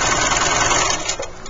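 A sewing machine stitches fabric in one short, continuous burst, giving a rapid, steady mechanical whir that is close and fairly loud, with no speech.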